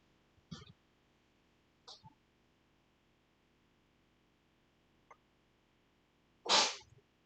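A single sharp sneeze bursts out near the end, preceded by a few faint, brief throat or breath sounds in an otherwise quiet room.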